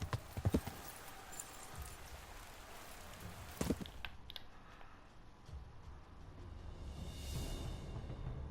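A horse's hooves clop along while it is ridden in Kingdom Come: Deliverance, with a few sharp knocks early and softer, irregular steps later among faint ambient noise.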